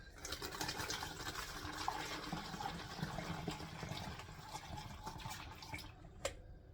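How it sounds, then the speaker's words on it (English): Homemade liquid cleaner poured through a funnel into a bottle, a steady close trickling and splashing stream that runs unbroken for several seconds with faint drips near the end. "And we're going to pour that right into our bottle."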